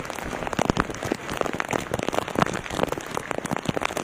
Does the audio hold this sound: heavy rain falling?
yes